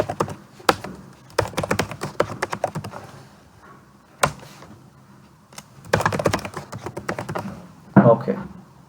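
Bursts of keystrokes on a computer keyboard while a root password is typed during a Linux installation, with quick clustered taps separated by pauses and a couple of louder key thunks, close and clear.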